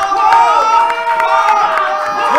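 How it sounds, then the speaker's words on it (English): An audience claps and cheers steadily throughout, a dense, loud wash of applause with scattered shouts. "Everybody's clapping. Even the New Metal guys are clapping."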